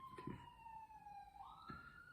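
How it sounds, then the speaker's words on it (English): A faint, distant siren wails, its pitch dipping and then climbing again, with a few soft knocks nearby. "Oh, siren."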